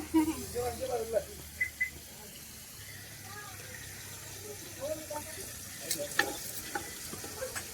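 Food being stirred and fried in a pan at a small roadside fish-meal eatery in Dhanushkodi, a soft scraping and sizzling that stays quiet and close, with people talking over it.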